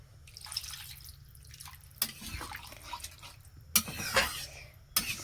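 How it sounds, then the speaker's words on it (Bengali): Water goes into a pot while fish curry is cooking, heard as close splashing and dripping bursts with brief clatters of the pot, separated by quieter pauses. "মাছ দিয়ে ঝোল হবে তো, একটু জল দিতে হবে। জল দিয়ে দিচ্ছি।"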